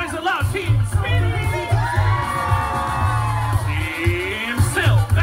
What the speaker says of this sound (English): One more time, nice and loud, Team Speedy!